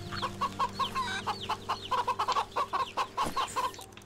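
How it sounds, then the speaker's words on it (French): Chickens in the video game Wytchwood cluck in a steady run of short, close calls, repeating roughly every quarter second over a low ambient game-music bed, with no talk. "je vais aller interagir avec les poulets qu'on voit tout de suite ce que ça fasse"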